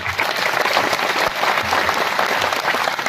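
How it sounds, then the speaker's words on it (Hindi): A crowd at a Hindi poetry gathering (kavi sammelan) claps hard and continuously, a thick, loud wash of hands that holds steady for the full few seconds without a pause. "डीजीपी साहब के इस यज्ञ के लिए इतनी तालियां बजाइए जितनी अब तक नहीं बजी हैं।"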